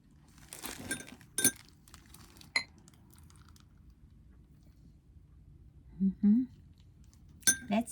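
A drinking glass is picked up and clinks with sharp, bright ticks, a few scattered clinks and knocks over quiet kitchen background, with a brief low voice near the end.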